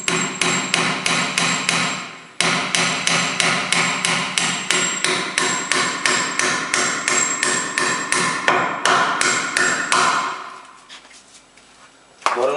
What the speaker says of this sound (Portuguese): Nós vamos bater o último prego que vai travar a estaca, a travessa superior